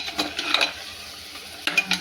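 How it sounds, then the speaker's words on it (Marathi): A spoon stirs masala in a pan for stuffed brinjal, giving light scraping and clinking strokes in short bursts, a pause, then more quick scrapes against a soft sizzle. "हलवून घ्यायचं जरा मसाला"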